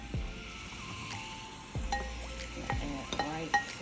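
Fresh spinach hitting a hot pan with garlic and seasoning for a bourbon steak dish, a soft sizzle under clinks and scrapes of a utensil stirring against cookware.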